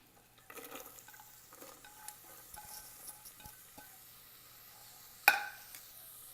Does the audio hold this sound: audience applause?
no